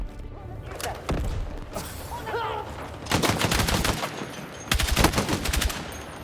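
Gunfire in the video game Battlefield 6 comes in several loud automatic bursts with thuds and impacts, separated by brief lulls of battle ambience.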